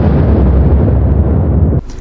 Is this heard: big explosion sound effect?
yes